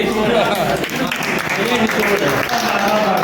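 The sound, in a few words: people clapping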